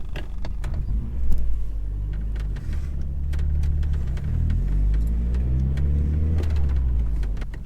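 A Honda Prelude heard from inside as it pulls away and accelerates, with a clunk early on, then the engine note climbs through the gears over road rumble and scattered clicks.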